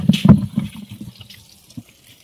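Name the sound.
running water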